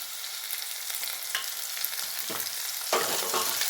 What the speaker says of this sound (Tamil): இப்போ பொடியாக நறுக்கின 2 தக்காளி,